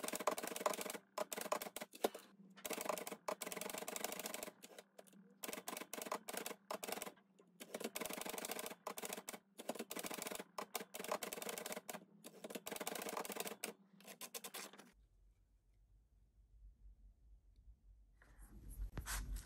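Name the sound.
typewriter typing on coffee dyed paper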